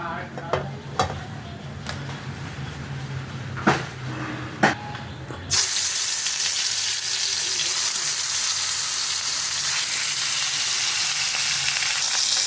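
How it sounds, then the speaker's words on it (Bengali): Fish hits hot oil: after several sharp utensil knocks and clicks, a loud, dense sizzle bursts in and continues evenly to the end. "তেলটা গরম হয়ে গেলে মাছগুলো আমি ভেজে নেব।"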